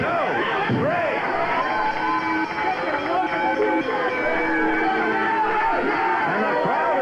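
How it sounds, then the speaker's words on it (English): A wrestling arena crowd in 1970s Northern California boos and jeers steadily after a match ends, a dense continuous roar of many voices with scattered shouts rising above it. "And the crowd is booing."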